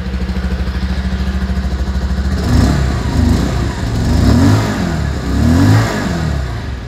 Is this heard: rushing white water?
no